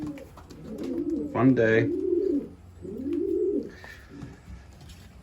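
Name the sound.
young pigeons cooing on the landing board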